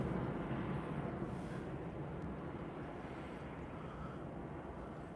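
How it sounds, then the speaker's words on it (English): A Jet2 Boeing 737-800 airliner in Jet2 Holidays livery departing Liverpool John Lennon Airport for Faro, a faint, steady distant rumbling roar that holds evenly with no voices. "that's the Jet2 737-800 and the Jet2 livery, Holidays livery going to Faro"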